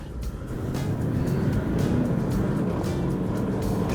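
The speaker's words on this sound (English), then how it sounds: "we're going to check the swaying of the vehicle when I go in and out these cones" A vehicle weaves in and out of a line of cones during a suspension test, its engine and tyre noise a steady, close, fairly loud rumble throughout with no pauses.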